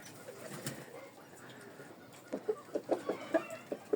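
Hens in a backyard coop cluck in a quick rhythmic run of short, fairly close calls after a quieter stretch of soft background noise.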